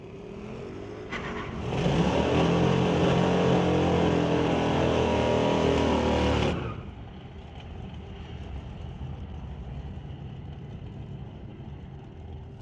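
A 2020s Ford Mustang and a 2016 Subaru Outback launching in a drag race: loud, roaring engines build quickly, hold for several seconds, then drop away into a distant, fading rumble.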